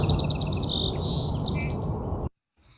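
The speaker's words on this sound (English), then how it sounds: "I love the song sparrows. For me, they're the sound of spring" A song sparrow sings a bright, melodious phrase of a few clear notes followed by a quick trill. It is close and clear, then cuts to silence.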